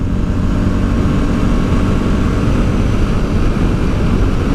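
A motorcycle engine roars steadily and loudly while overtaking on the Route Napoléon toward Grenoble, a dense, constant drone mixed with wind rush and no clear change in pitch.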